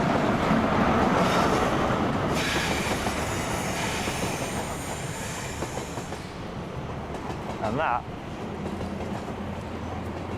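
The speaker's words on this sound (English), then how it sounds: "is a train dispatched safely" A train pulls away from a station on an East Coast main line, a steady loud rumble of wheels and rail noise with a brief squeal near the end and a few words spoken over it.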